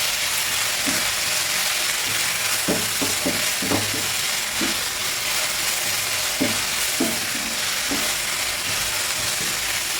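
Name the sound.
onions frying in a pan for egg curry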